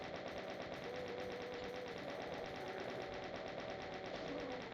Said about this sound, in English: I want to use this chain gun to stun as much as possible.